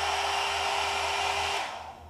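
One Step hair dryer with a built-in hairbrush running on its high setting, a loud steady whirring blow that carries on alone and then cuts off and fades near the end.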